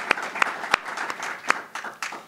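A university audience applauds the introduction of a new athletic director at the University of Utah, with scattered individual claps forming a steady, moderately loud round of applause with a few sharp close claps.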